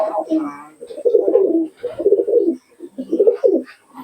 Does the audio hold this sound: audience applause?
no